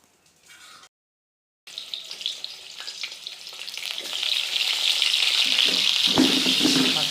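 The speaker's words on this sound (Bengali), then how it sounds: "তেল দেওয়ার পরে আমাদের কাজ হচ্ছে আলু ভাজা।" Potatoes fry in hot oil, a loud, steady sizzle with stirring that builds in intensity after a short silent gap.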